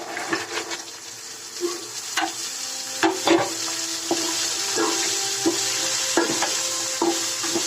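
Washed cowpeas stir-fry in oil in a pan with no added water, giving a constant bright sizzle broken by repeated scraping and clattering strokes of a spoon, close and without talk.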